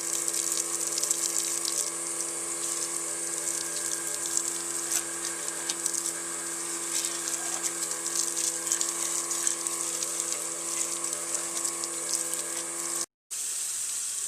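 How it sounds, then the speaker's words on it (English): A spray hose attachment washes down and soaps up a motorcycle during a mobile wash, giving a steady, loud hiss of water spray that runs continuously for about thirteen seconds, drops out briefly, then resumes. "Using the spray hose attachment to completely wash down and soap up the"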